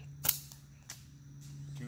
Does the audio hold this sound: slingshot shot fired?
yes